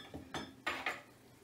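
A spoon scrapes and clinks against a pot while scooping thick oatmeal fudge dough, four short scraping bursts close by with no talking.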